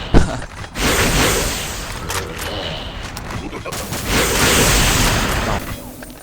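Loud, dense gunfire in the online shooter Xshot on a mummy stage, bursts of rapid shots and booms filling the clip almost continuously, with brief shouting voices mixed in.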